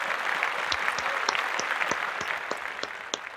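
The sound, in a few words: audience applause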